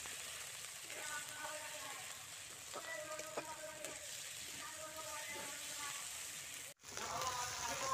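Ginger-garlic paste fries in a pan for a Bengali-style jackfruit curry, giving a steady, close hiss of sizzling with faint scraping touches and a brief dropout near the end.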